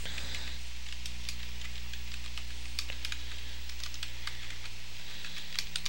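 Quiet keyboard typing while entering HTML code for a table-based website layout, irregular light key clicks in bursts over a steady low electrical hum.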